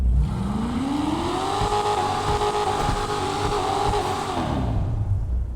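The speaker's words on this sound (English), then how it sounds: "I'm gonna rev it for you guys now." A stationary car's engine is revved, rising from idle into a sustained loud drone with a clear climbing and falling pitch before it settles back, near and alone.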